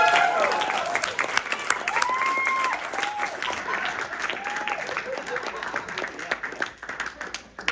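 Audience applause for three contestants walking out at a live comedy show, steady dense clapping throughout with whoops and cheers rising above it, tapering slightly near the end.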